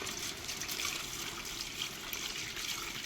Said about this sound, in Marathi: आता त्याच्यात आपण गार पाणी टाकू